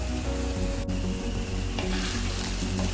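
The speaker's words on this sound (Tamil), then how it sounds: "நல்லா இதுலேயே கத்திரிக்காயும் வெங்காயம் பச்சை மிளகாயும் நல்லா வதங்கிடணுங்க." Eggplant, onion and green chillies fry with a loud, steady sizzle in a pan for brinjal rice, broken by occasional scraping knocks as they are stirred.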